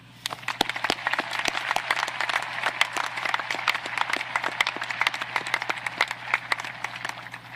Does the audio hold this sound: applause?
yes